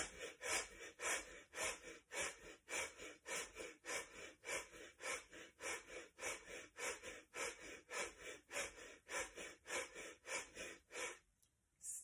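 Deep rhythmic breaths during a guided breathing exercise, about twenty quick close-up inhale-exhale cycles in a steady pumping rhythm, ending in a brief pause near the end.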